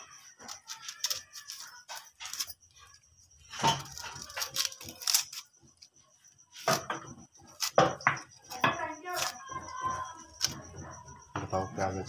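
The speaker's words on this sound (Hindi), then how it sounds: "अब हम प्याज की कटिंग करेंगे" A knife chops onion on a cutting board in a home kitchen, sharp irregular taps in short clusters with pauses, fairly close and quiet, among faint kitchen handling sounds.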